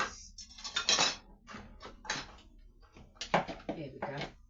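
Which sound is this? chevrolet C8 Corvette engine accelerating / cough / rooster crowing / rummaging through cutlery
rummaging through cutlery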